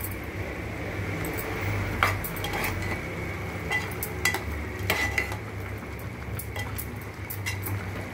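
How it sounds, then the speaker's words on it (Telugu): Masala gravy with mushrooms stirred in a pot, a spoon scraping and clinking against the metal in irregular strokes over a steady background hum, with sharper knocks now and then. "ఒకసారి మంచిగా కలియబెట్టాలి."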